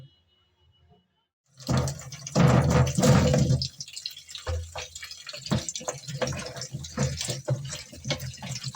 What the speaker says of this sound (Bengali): আলুগুলো সব কোষা ছাড়িয়ে এখন আমি ধুয়ে নিচ্ছি ধুয়ে পরিষ্কার করে